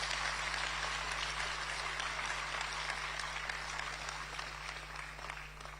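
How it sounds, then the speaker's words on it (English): A crowd at a political gathering in Ghana applauds their national chairman with sustained, dense clapping over a constant low electrical hum, the applause gradually thinning and quieting toward the end. "Let's give our national chairman another round of applause."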